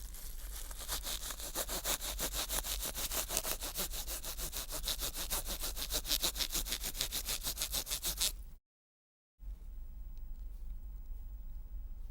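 A plastic sheet is rubbed briskly back and forth in fast, even, rasping strokes, close and continuous for several seconds before a brief gap and a quieter stretch.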